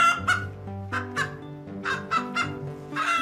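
Hens on a dairy and poultry farm housing about 50,000 birds cluck and call continuously in overlapping bursts, a dense nearby chorus with no voices.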